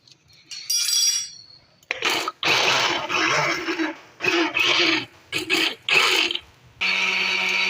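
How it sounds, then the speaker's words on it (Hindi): A kitchen blender whirs through watermelon juice with water, sugar and salt, running in loud close bursts of a few seconds each, separated by brief stops and clinks. "अब मैं इसको ब्लेंड कर डालूंगी।"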